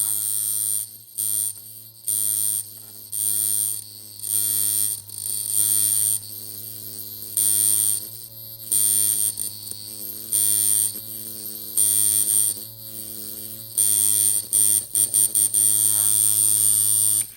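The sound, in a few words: Sunskin Primus hybrid tattoo machine running without needle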